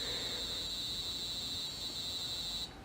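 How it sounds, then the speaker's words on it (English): A high, steady electronic buzzer tone sounds continuously from an Arduino alarm clock prototype, then cuts off abruptly near the end. "you heard the alarm go off after 1 minute."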